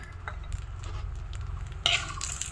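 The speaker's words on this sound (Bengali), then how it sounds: "কালিজিরাগুলোকে ভেজে নিতে হবে" Black cumin seeds frying in oil in a kadai give a soft, steady sizzle beneath scraping and stirring from a utensil, with a sharper clink of metal near the end.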